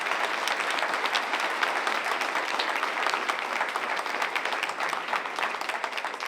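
An audience at a Latin sports hall of fame induction ceremony gives a sustained round of applause, dense, even clapping from many hands lasting several seconds.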